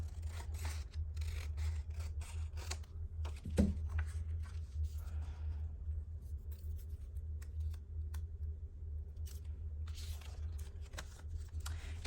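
Scissors cut paper for a junk journal, a series of quiet crisp snips and rustles close by over a low steady hum, with one faint thud partway through.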